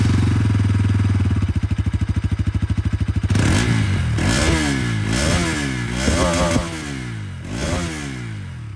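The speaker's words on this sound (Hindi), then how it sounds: "अब सुन लेते हैं एन का एग्जॉस्ट नोट" A 2023 Bajaj Pulsar NS200 motorcycle idles with a loud, rapid thumping exhaust, then is revved hard in several rising and falling bursts, close to the pipe with no talking.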